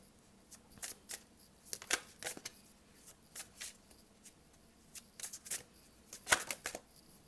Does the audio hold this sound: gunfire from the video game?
no